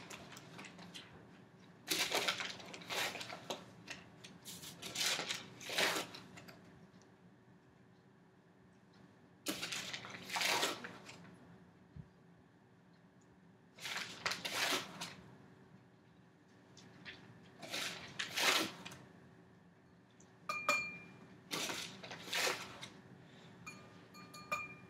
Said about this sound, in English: I want you to pour the sugar into the glass and tell me how much sugar you think is in a Coca-Cola